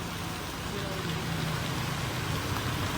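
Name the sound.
heavy rain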